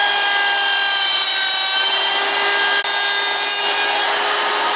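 A power tool cuts a groove into a wooden walking stick, making a loud, steady high-pitched whine and rasp that runs continuously with one brief dropout near the end, with no speech over it.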